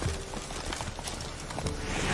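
Horse hooves clop in a quick, uneven rhythm as a mount is ridden in the video game The Witcher 3, fairly close and moderately loud over a dense game soundscape.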